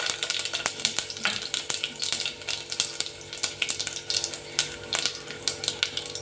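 Mustard seeds, cumin and dried red chilies crackle and sputter in hot oil, a rapid run of sharp pops and sizzles with a spoon stirring, close and steady for several seconds.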